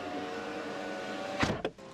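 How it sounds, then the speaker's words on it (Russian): A power window motor whirs steadily inside a Wuling Mini EV electric car, then ends with a couple of soft thumps as the glass stops. "И есть электростеклоподъемники"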